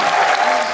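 A comedy-show audience bursts into brief, dense clapping, a short close burst of applause lasting under a second.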